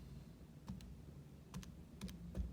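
Calculator buttons are pressed in a quick series of faint plastic clicks, about five taps spread unevenly over a couple of seconds against a quiet background hum.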